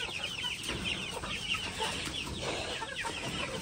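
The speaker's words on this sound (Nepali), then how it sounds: "कुखुरा त टन्नै पो रहेछ त।" Many chickens cluck on a farm, a dense and steady chorus of overlapping clucks at moderate distance that continues throughout.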